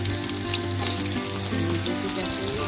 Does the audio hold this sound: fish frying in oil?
yes